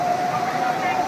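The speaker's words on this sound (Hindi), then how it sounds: "झरना" A temple waterfall rushes in a steady, close wash of falling water, with a thin tonal whine riding over it and faint talk in the background.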